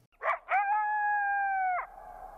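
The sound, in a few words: coyote yip howl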